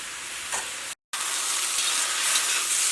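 Ivy gourd sizzles in a pan over a medium flame as it is stirred, a loud, constant frying hiss broken by a short moment of complete silence before the crackle resumes.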